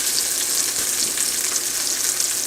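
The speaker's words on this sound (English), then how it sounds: "asparagus will take somewhere between 6 and 8 minutes, and you can turn them as they saute in the pan" Asparagus sautés in a pan, a steady close sizzle and frying crackle with a few soft stirring sounds.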